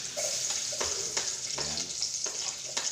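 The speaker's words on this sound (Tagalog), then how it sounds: "Ito, naglagay na tayo ng mantika. Nalagay na din natin itong bawang." Garlic sizzles in hot cooking oil inside a rice cooker, a steady close frying hiss broken by a few stirring scrapes, with no voices.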